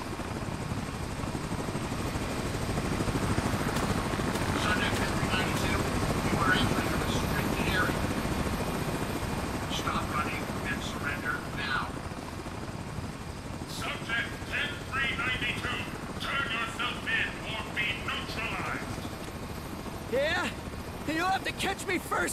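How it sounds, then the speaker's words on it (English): A helicopter thrums steadily throughout, loud and sustained as it flies over, while people talk over the rotor noise in the game. "Sending a damn helicopter to catch me?"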